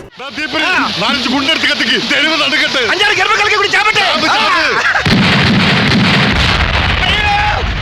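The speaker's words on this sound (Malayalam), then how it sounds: "ഇതാ കോളനിക്കാർ പടക്കം പൊട്ടിക്കുന്നതാ" Firecrackers burst in a rapid, dense, continuous crackling barrage, loud and sustained throughout, with a faint murmur of voices in the background.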